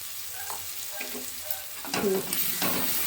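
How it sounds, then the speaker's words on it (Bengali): Tomatoes and salt sauté in a hot pan for a lentil-fritter curry, a steady close sizzle with scraping stirs that grow louder and busier toward the end. "লবণটা দিয়ে ভালো করে কষিয়ে দেবো"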